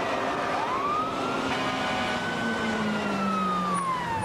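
A fire engine siren wails loudly and continuously, sweeping up and down as the truck responds to an oil tank fire in Three Rivers, Texas, with a heavy engine rumble underneath and no talking.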